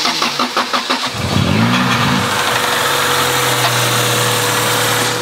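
A Honda GSR car engine cranks over with rhythmic starter pulses, catches with a brief rev, then settles into a steady, fairly loud idle close by.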